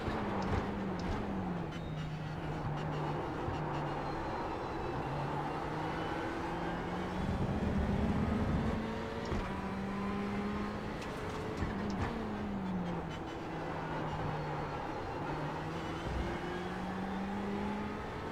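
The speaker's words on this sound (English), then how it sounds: "It's a Ferrari GTE we're driving." Ferrari 488 GTE race car engine in the iRacing sim at Daytona, a continuous droning motor rising and falling through gear changes, with repeated revving sweeps and a steady whine across the run.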